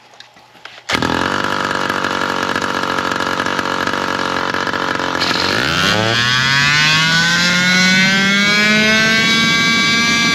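An engine under load on a dyno during a timing test, its exhaust pipe roaring: it bursts in abruptly, holds a loud, steady, buzzing note, then climbs sharply in pitch through a rising pull over the final seconds.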